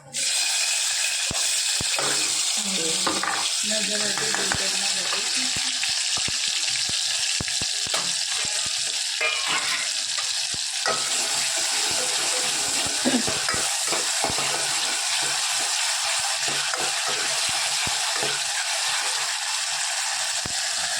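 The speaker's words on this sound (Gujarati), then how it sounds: "અહીંયા આગળ હું સેવસરનું વટાણા વઘારી રહી છું આના અંદર ડુંગળી અને ટામેટા છે" Peas with onion and tomato fry and sizzle in a pan, a loud continuous hiss broken by repeated scraping and stirring clatters of a utensil against the pan, with no talking.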